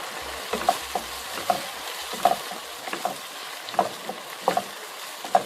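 Ginger-garlic paste sautéed in a pan for dry gobi manchurian, a steady sizzle punctuated by regular spoon scrapes and taps against the pan, close and clear with no talking.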